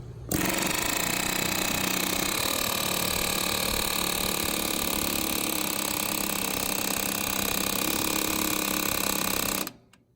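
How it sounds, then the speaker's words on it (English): An air hammer rattles against a rusted clutch bolt on an Allis Chalmers 180 tractor, a loud, continuous rapid-fire buzzing hammering that runs nearly ten seconds before cutting off abruptly. "I'm letting the air hammer kind of knock the rust loose"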